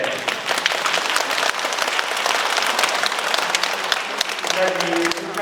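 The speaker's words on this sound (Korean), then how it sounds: "저한테 제발 박수 치지 마세요" An audience at a Catholic Marian Movement of Priests cenacle retreat lecture applauds with dense, sustained clapping that fills the room evenly from start to finish, with a faint voice near the end.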